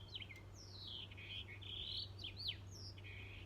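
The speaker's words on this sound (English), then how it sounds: "Listen to the birds." Birds chirp and tweet in quick, high bursts over a steady low hum, several calls overlapping at moderate distance.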